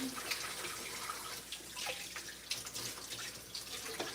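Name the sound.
washing hands under a running tap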